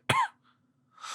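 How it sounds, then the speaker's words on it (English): Two harsh, dry coughs from a man reading an audiobook of Herman Melville's The Confidence Man, close and loud, separated by a short quiet gap, with no speech around them. "Oh, this cough."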